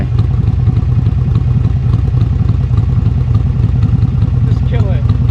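Harley Davidson Iron 883 motorcycle idling close by, a loud, steady, lumpy rumble with rapid regular pulses and some mechanical clatter, people talking over it.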